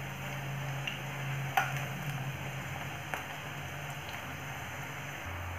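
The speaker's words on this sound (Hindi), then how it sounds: "इसे दोनों तरफ से मीडियम फ्लेम पे गोल्डन ब्राउन कर लें।" Onion pakoras fry in hot oil over a medium flame, giving a steady faint sizzle broken by a few light clicks and scrapes as they are stirred and turned.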